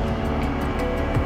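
A Ferrari Purosangue with its 715-horsepower V12 engine being driven through the Sahara, giving a loud, steady, full-bodied engine drone that holds throughout without a break.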